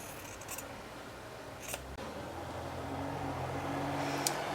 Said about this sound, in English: you're going to trim along that 45-degree angle. And just with a pair of scissors